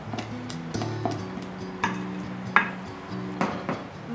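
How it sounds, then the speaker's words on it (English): Cake batter for a chocolate and date cake being mixed after sifting dry ingredients into wet ones: steady stirring with a utensil scraping a bowl, light clinks and taps in a regular rhythm, close and fairly quiet, no talking. "just going to mix everything together"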